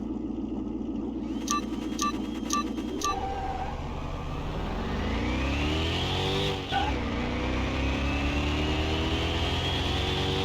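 A car in Car Mechanic Simulator 2021, fitted with a halfway decent exhaust and still in worn condition, follows a few short beeps with an engine that revs up steadily, drops briefly at a gear change, then climbs again, loud and continuous.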